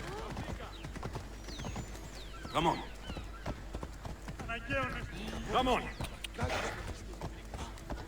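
Horse hooves clip-clop at a gallop in Assassin's Creed Odyssey, a steady rhythmic patter with a couple of whinnies, heard close under someone talking throughout.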